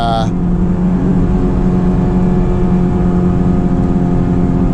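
Honda S2000 four-cylinder engine held around 5,000 RPM while driving, a steady loud sustained drone with harmonic tones, continuous throughout with a voice talking over it.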